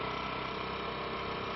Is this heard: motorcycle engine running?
yes